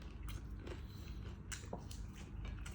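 Crunchy lechon pork belly skin is bitten in a few sharp, brief crackles, close and quiet, separated by soft pauses.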